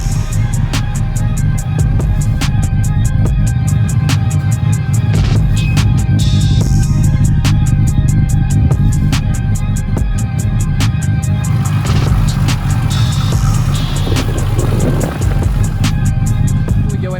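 Tuned 600-horsepower RB25 Neo engine with a GTX3582 turbo in a car nicknamed Barney, idling with a steady low rumble and some higher mechanical clatter throughout, no talking.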